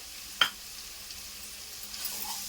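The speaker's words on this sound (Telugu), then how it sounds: "ఈ అల్లం పేస్ట్ కూడా కొంచెం ఫ్రై అవ్వాలి." Ginger paste fries with onions in a hot pan for a boti curry, a soft steady sizzle after a brief sharp clink of a spoon at the start, quiet and close with no voices.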